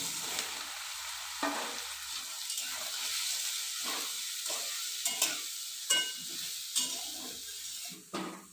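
Gandhapata leaf fritters deep-frying in hot oil, a loud steady hissing sizzle with occasional sharper spatters and clinks as they are turned, no voices.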